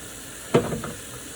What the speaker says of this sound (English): I'm frying this fish on Saturday.